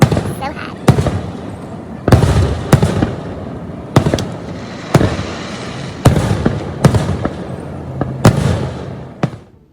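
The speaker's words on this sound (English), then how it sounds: "the fireworks are like right outside my house" Fireworks go off just outside a house, a series of sharp, loud booms roughly every second with crackling tails between them.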